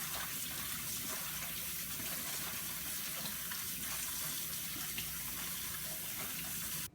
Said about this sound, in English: I'll run them through some cold water and rinse all the extra seeds out.